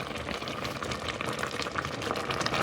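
Nectarine jam simmering in a pot over low heat, a steady close bubbling and soft popping with a gentle sizzle and no voices.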